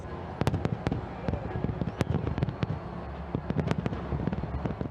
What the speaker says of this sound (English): The New Year Eve celebration started from New Zealand with iconic fireworks and laser light animations in Auckland.